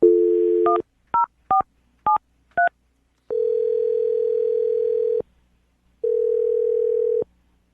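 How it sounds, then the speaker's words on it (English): Electronic phone tones: a short beep, a quick series of dialing keypad tones, then two long steady tones with a pause between them. "I'll dial this phone number right now, okay?"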